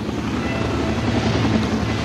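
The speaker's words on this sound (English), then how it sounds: "I wish there was a little more we could get out of the helicopter in the sky with the guys hanging on it" A film sound effect of a helicopter in the sky with men hanging from it: a loud, continuous rotor drone that holds steady throughout, as if the helicopter is passing overhead.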